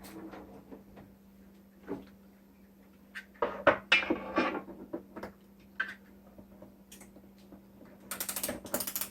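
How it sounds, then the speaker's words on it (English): Handheld can opener cranking a can, uneven clicking and ratcheting bursts with metallic scrapes, close by and irregular in rhythm. "The noise you're hearing is my"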